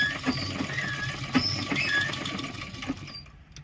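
A sewing machine stitches a folded seam in a steady close whir with faint rhythmic ticks, slowing and fading near the end.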